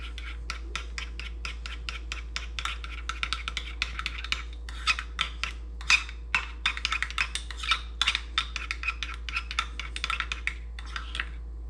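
Meatloaf seasoning with paprika stirred in a bowl for a smoked meatloaf, a steady run of close scraping and rasping strokes with light clinks of a utensil against the bowl, continuous for several seconds with no talking.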